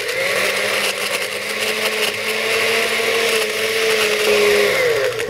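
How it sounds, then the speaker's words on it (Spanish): A blender steadily whirs as it blends a mango margarita with lime, syrup, orange liqueur and salt, giving a loud continuous motor drone with a slight pitch drift near the end, with no talk over it. "Lo licuamos."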